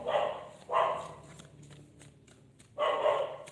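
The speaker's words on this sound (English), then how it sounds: "my dog starts because I've got people cleaning outside" A dog barks in three loud, close bursts, with a quieter stretch between the second and third, set in a home while people clean outside.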